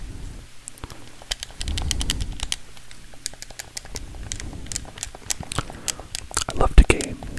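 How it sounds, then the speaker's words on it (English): A computer keyboard is tapped in quick irregular clicks and clatters that go on throughout, close and fairly crisp, with soft low rustling under them. "If you'd like to hear lots of sounds of keyboard tapping, please check out the Hacker ASMR."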